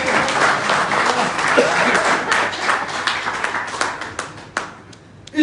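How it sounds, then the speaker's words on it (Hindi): Audience at a motivational talk applauding: dense, steady clapping from many hands filling the room for several seconds, then thinning out and fading toward the end. "तालियां हो जाए।"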